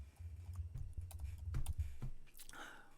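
Quiet, irregular clicks of fingers typing on a computer keyboard, bursts of keystrokes close by against a low background hum.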